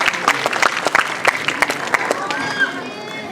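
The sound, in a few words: audience round of applause for performing kids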